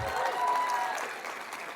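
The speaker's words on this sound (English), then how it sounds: "Let's give a round of applause." Applause from a large convocation audience, a dense steady wash of clapping that holds at an even level throughout, with faint crowd murmur mixed in.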